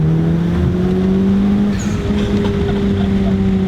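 A Honda Civic Type R with bolt-on modifications runs loud and close, a strong steady engine drone with a rising tone and a brief airy whoosh partway through, like a blow-off valve releasing.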